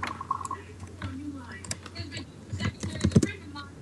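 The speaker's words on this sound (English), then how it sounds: "I told you I was a fast typer." Fast typing rattles on a computer keyboard in quick, irregular clusters of clicks, close and moderately loud, with some background rustle and murmur mixed in.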